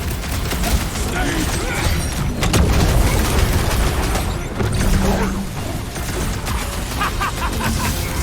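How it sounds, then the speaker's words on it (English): Dense video game combat in Marvel's Guardians of the Galaxy, with loud blaster fire, booms and crashes churning continuously, while characters' voices talk over the fighting. "I'm trying to shoot here!"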